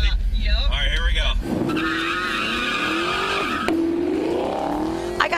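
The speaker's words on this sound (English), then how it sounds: "I got to ride in the pace car, which was pretty crazy." A pace car speeds around the Pocono Raceway track, its engine revving and whining up through gears with tire squeal, loud and close from inside the car, with voices heard over it.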